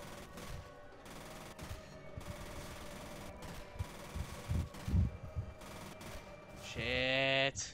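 Gunfire in F.E.A.R. with rattling bursts of automatic fire amid game noise, a few heavier thumps near the middle, and a closing electronic tone sweep. Speech is likely mixed in beneath.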